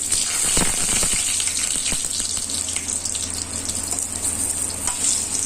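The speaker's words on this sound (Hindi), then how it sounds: "अब इसमें आलू को तल लेंगे।" Potatoes frying in hot oil in a pan for a Chhattisgarh-style egg and potato curry, a steady close hiss and sizzle with bubbling crackles, continuous and fairly loud.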